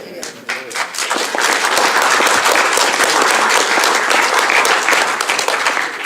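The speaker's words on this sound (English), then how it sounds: "Not everyone gets applause" Applause for a council chief executive on a permanent appointment fills a council chamber, a loud dense wash of many hands clapping that swells after a brief start and holds steady.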